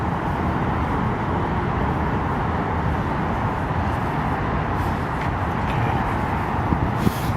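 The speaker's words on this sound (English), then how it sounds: "I'm waiting on cross traffic here" Steady broadband roar of cross traffic streaming past a crosswalk near a waterfall, a continuous close wash of tyre and engine noise with no pauses, one small bump near the end.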